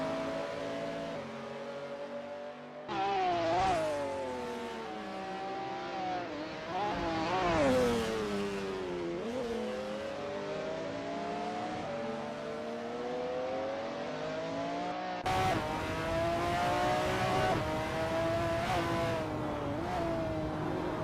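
McLaren F1 GTR race car in a racing video game at Sonoma Raceway, engine note climbing and falling through gear changes as it accelerates and brakes through corners, loud and continuous with no voices.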